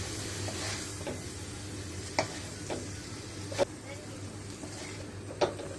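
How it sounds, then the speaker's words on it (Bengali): Noodles for egg chow mein being added and stirred in a hot wok, a soft steady sizzle with occasional sharp clicks of the utensil against the pan, a voice talking faintly underneath. "এখন নুডলসগুলোকে কড়াই দিয়ে দিচ্ছি"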